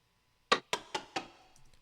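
A short drum roll in a finished song arrangement: four quick, bright hits in a steady accelerating pattern, each decaying briefly before the next, played alone without voices.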